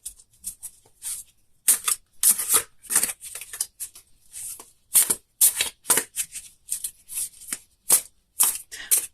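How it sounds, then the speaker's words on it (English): Tarot cards are shuffled and laid out in repeated crisp bursts of riffling and slapping, close up and fairly loud, with short pauses between each flurry. "if you don't want to watch the shuffling process and laying out the cards"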